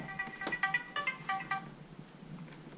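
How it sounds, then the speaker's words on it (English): A mobile phone ringtone rings in a series of bright, melodic electronic tones during the first second and a half, then fades out, heard indoors without talk. "sorry about my phone ringing there"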